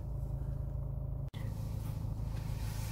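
A car drives through Narva, Estonia, toward a Lidl parking lot, heard from inside as a steady, close low engine and road rumble with a momentary cut partway through.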